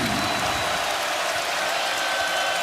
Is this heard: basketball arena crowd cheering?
yes